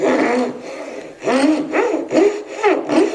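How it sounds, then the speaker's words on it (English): A Japanese hand saw rasps through wood in steady strokes, each pull cut louder and harsher, repeating in an even rhythm at close range. "you can hear that it's the pull stroke that's doing the cutting"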